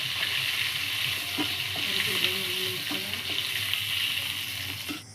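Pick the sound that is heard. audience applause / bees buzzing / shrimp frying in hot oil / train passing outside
shrimp frying in hot oil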